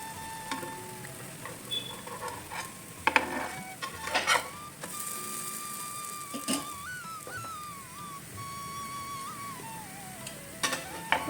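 Mandadiyan varukandam snack sizzling and frying in a pan, a steady crackle with occasional sharper pops and a few metallic clinks, close and moderately loud.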